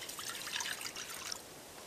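Water poured into a stainless steel camping frying pan, a brief soft trickling splash heard close and alone, fairly quiet.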